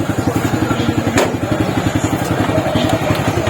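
A motorcycle engine idles close by with a steady, rapid putting rhythm, running continuously throughout.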